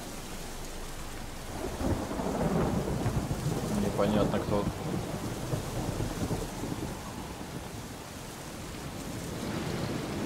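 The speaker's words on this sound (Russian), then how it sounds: "На Скельге гроза, блин. Здесь дождь." Thunderstorm with steady rain in the video game The Witcher 3, a continuous hiss of rainfall under a long rolling rumble of thunder that swells and fades, with a brief voice speaking over it.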